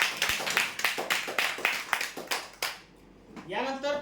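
A crowd at a prize draw gives applause for winners, a burst of steady clapping that fades out, then a voice starts speaking.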